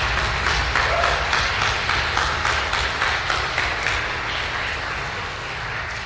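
A seated audience gives steady applause that fades gradually over about six seconds. The clapping is even and moderately loud and stands alone.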